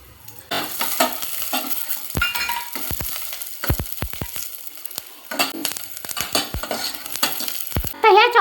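Chopped garlic, grated ginger and green chili sizzle in hot ghee while a spoon stirs and scrapes the pan, giving a steady crackle broken by sharp clinks of metal on metal, with no talking.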